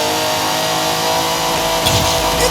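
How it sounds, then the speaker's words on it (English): A 1930s car in Forza Horizon 5 screams at high revs like a Formula 1 engine, a loud sustained wail with a shift or tire-squeal burst near the end. "this car literally screams like a Formula 1 car, which is so weird to hear from a car from the 30s"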